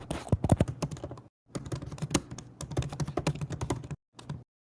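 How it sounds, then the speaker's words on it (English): Rapid typing on a computer keyboard picked up through an open microphone during an online call, dense clattering keystrokes in two bursts with brief pauses, close and fairly loud. "I hear someone's keyboard."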